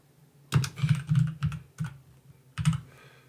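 Close-up clicking of computer keyboard keys as an email address is typed, a quick irregular run of keystrokes with short pauses in between.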